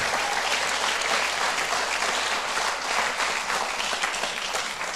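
An audience claps loudly and steadily, a dense, continuous wash of applause that fills the whole moment without a break.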